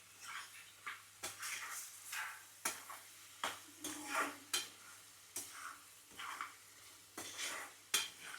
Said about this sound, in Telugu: ఇప్పుడు కలుపుకుంటాను.